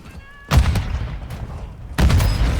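Two loud booming explosions in the mobile shooter game Warzone Mobile, the second following about a second and a half after the first, with a rumbling tail after each.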